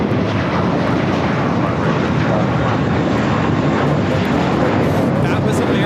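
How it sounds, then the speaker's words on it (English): An American Airlines Airbus A321 takes off at LAX, bound for JFK, its jet engines a loud, steady broadband roar that holds constant and close throughout, with faint talk underneath. "taking off to JFK on the A321"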